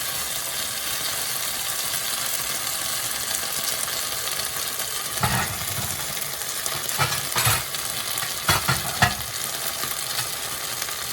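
Shrimp and garlic frying in a pan make a steady sizzle throughout, with a few louder scraping stirs near the end.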